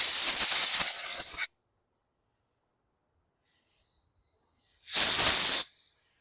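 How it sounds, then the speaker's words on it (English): Two loud, close blasts of compressed air hiss onto a lawn mower carburetor. The first lasts about a second and a half, then silence follows, then a shorter second burst. "Grab my compressed air"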